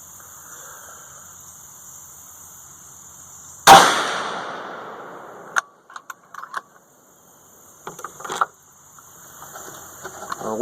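A single loud, sharp 450 Bushmaster rifle shot fired with Hodgdon H110 powder loads, followed by a decaying echo and then a few light metallic clicks and handling noises.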